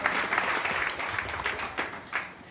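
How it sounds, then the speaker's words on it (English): A seated audience applauds steadily at a local political event, broad continuous clapping filling the room with a few louder surges and no talk over it. "let's give a round of applause for that"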